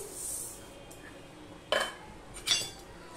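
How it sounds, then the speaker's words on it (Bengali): A spatula clanks twice against a hot kadai while mung dal dry-fries, giving sharp metallic knocks over a quiet background with a faint high ring at the start. "এবার আমি হাফ কৌটো মুগ ডাল ভেজে নিচ্ছি।"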